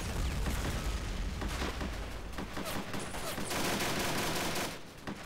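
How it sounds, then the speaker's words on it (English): Sustained MG3 or MG42 machine gun fire in the Red Storm mod game, dense overlapping bursts of rapid shots with booms mixed in, loud and continuous during a massive assault. "Got some MG3s or MG42s spinning away here"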